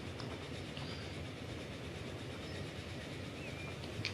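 A train runs along track in the Transport Fever video game, a faint, continuous rolling rumble of wheels and carriages with soft rail noise and occasional light squeals, without talk.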